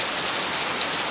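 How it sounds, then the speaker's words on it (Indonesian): Heavy rain pours steadily on an afternoon in Kota Batu, a dense, even hiss of drops on surfaces that holds constant and loud throughout, with no voices. "Lihat itu hujan yang deras sekali di sore hari ini"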